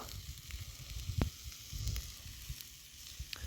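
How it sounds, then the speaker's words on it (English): Quiet sizzling of Spam frying in a pan over hot coals at a campsite, a soft steady crackle with occasional pops. "it's just frying it up perfect"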